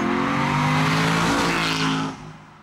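An Aston Martin V8 Vantage Roadster passes fast and close, its V8 engine note loud and climbing, then cuts off abruptly as it goes away.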